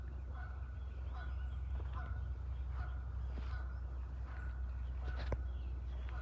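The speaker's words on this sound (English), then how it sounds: "That's the geese." Geese call out on the water of a calm, clean pond, a series of short honks repeating every second or so at a moderate distance over a low steady background hum.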